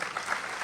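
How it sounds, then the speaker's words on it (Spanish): Brief burst of audience applause for two speakers at a conference on archive digitization, a dense, even wash of clapping heard from a distance, short and without talk. "los despedimos con un aplauso, por favor,"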